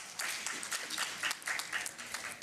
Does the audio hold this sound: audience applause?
yes